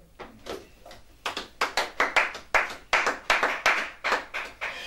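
A worship congregation claps together in a steady, rhythmic beat that builds from scattered hits into loud, regular unison claps, with no talking over it.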